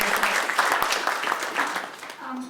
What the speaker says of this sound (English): we gave some round of applause